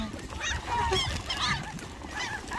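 Several hungry gulls call repeatedly in overlapping cries, fairly close, over a steady outdoor background in northern Europe.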